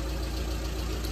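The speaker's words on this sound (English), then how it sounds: "Now we can see engine is running, so it will give a little boost to the compressor." A Volkswagen Transporter T5 engine idles with a steady, even rumbling hum, close and constant throughout, with no talking.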